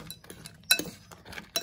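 Bacon being mixed into carbonara pasta with its stock, sparse clinks and scrapes of a utensil against a glass or ceramic dish, a few sharp taps among quiet gaps, close by.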